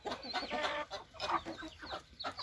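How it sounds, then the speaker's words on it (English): Chickens cluck in a busy backyard flock that includes a silky rooster and bantams, with close, overlapping clucks and squawks in an irregular rhythm and no talking. "That's a silky rooster."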